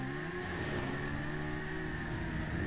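A motorcycle engine in GTA V Online holds a steady, loud drone at constant revs for a few seconds without pause.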